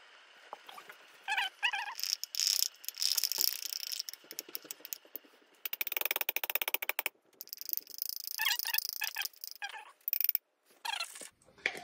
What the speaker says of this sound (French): Le couvercle, je ne le remets pas au complet, je fais simplement le déposer, le visser un tout petit peu